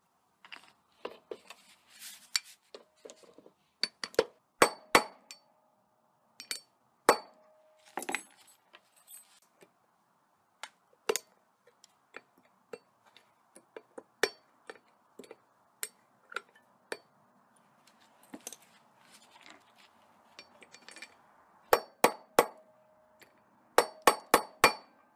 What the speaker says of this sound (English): Might kind of tap on it a little bit. Make sure that snap ring is seated in place.